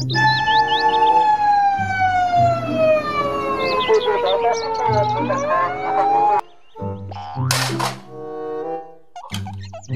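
A toy tow truck siren wails with a rising and falling electronic tone for several seconds, then cuts off into short bursts of beeping toy sounds.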